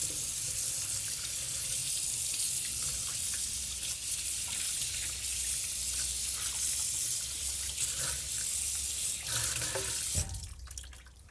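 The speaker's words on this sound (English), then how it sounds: "So we're just gonna go into the sink under cold running water" Cold tap water runs steadily into a kitchen sink while a corned beef brisket is rinsed beneath it, a continuous close hiss and splash that stops abruptly near the end.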